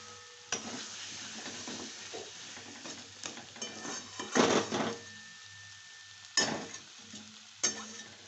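Spring onions fry in a pan while a utensil scrapes and knocks against the metal, giving a soft sizzle broken by several sharp stirring clatters.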